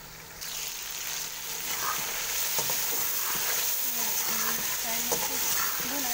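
Spinach and potatoes for palak aloo frying in a pan, continuous sizzle with repeated spatula scrapes and taps against the pan, close and fairly loud.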